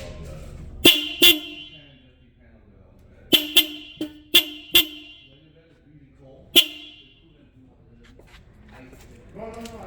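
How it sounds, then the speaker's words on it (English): A Honda Civic horn fitted to a Honda Accord sounds in loud, sharp honks: two quick blasts, then a run of four short toots, then a single honk, close and clear over faint background noise. "I'm gonna go and blow the horn"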